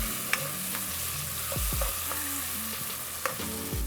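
Garlic cloves fry in a pan for a chicken stew, giving a soft steady sizzle with occasional stirring clinks and scrapes, close and without talk.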